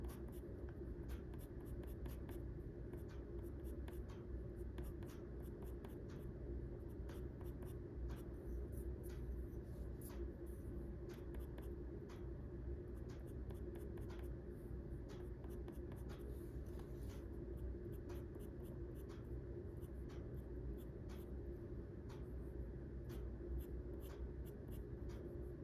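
Colored pencil strokes on paper while sketching a white-breasted nuthatch, a steady, quiet scratchy scraping that runs throughout with fine rapid strokes and no talking.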